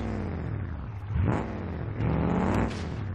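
Stock 4x4 truck engine in the BeamNG.drive driving game revving through a few rising and falling surges, close and loud with a steady mechanical drone beneath.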